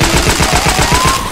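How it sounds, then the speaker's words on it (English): Rapid automatic gunfire from the video game Left 4 Dead 2, a steady rattling burst of closely spaced shots running loud and continuous for over a second. "What is up with you shooting me?"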